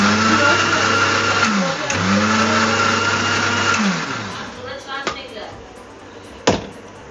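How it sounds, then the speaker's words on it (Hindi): Countertop blender whirring through a banana shake of banana, sugar and a little milk, a steady loud motor drone for about four seconds that then cuts out, leaving a few clinks and knocks. "यहाँ बन रहा है बच्चों के लिए बनाना शेक, जिसमें बनाना, थोड़ी सी चीनी, और मैंने थोड़ा दूध डाला है भी"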